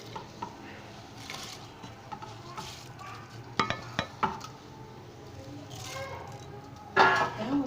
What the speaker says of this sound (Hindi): अब इसमें चावल शामिल कर लेता हूँ और चावल शामिल करके अच्छे से मैं इसको मिक्स कर लूँगा।